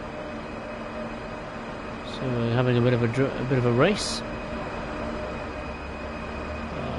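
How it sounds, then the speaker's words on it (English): A Talent 2 electric train's motor whine in Train Sim World 5 rises and slides in pitch as it pulls away from a station, heard over a low rumble while someone talks. "There's a Talent 2 departing the station."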